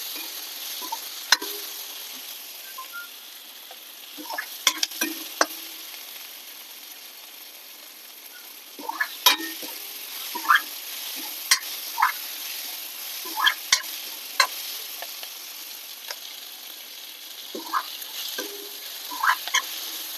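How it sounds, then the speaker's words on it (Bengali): Pointed gourd frying in spiced oil, with salt and spices stirred in, gives a steady low sizzle under repeated clinks and scrapes of a spatula stirring the pan, close and fairly quiet. "এই দেখো ভালো করে ভাজা হয়ে গেছে"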